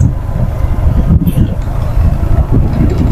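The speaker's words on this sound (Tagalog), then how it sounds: "ang lakas ng impact ng hangin" Heavy wind at a waterfall buffets the microphone with low, rumbling gusts that pulse unevenly, loud and close throughout.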